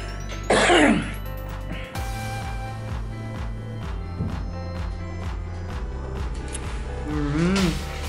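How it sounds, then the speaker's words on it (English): A single sharp, throaty cough bursts out near the start over steady background music, close and loud, with no further coughs after it. "I'm coughing."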